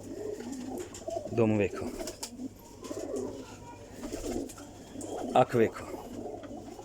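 Female pigeon cooing in a loft, two distinct burst-like coos rising above a background of soft murmuring and someone talking over it.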